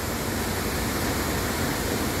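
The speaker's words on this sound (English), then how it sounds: "Waterfall after waterfall" Steady broadband roar of the Iguazu waterfalls heard in rain, a dense continuous rushing wash with no breaks across the whole stretch.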